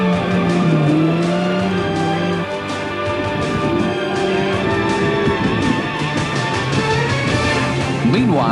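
A Subaru rally car's engine roars loud and close, holding a sustained revving drone with shifting pitch and brief tyre squeal, continuous throughout at a race event.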